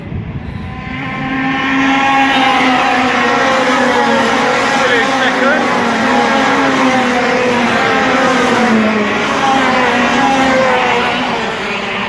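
Racing karts at a World Masters Kart Championship round drone continuously, a loud sustained engine whine with shifting pitch as several karts run together, with race commentary talking over the sound throughout.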